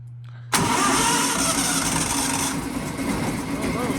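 An old Ford Model T roadster engine cranks briefly and then fires up, catching loudly and running with a rough, steady idle close to the microphone for the rest of the stretch.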